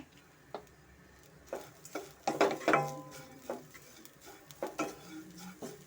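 Turmeric being fried and stirred in a hot pan for village-style mutton kaima unde saaru: soft scraping and clinks of a spoon against the pan, with a faint sizzle, close and quiet.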